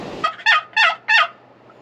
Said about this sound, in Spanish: A Wilber le acaba de responder un guajolote.